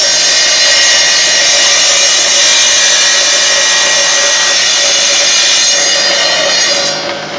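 A wet saw with its water running cuts a wooden shim to length, a steady loud whine held for about seven seconds and then easing off at the end.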